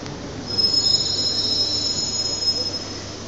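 A French driverless local train or metro running on its rails, with a sustained high-pitched wheel squeal riding over a steady low rumble, loud and close for a few seconds.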